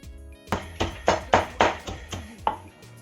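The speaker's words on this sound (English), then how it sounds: "What I'm going to do right to pound the crayfish and the scotch bonnet pepper." Crayfish and scotch bonnet pepper pounded in a village kitchen, about eight heavy, steady thuds close up with short gaps between them, and no talking.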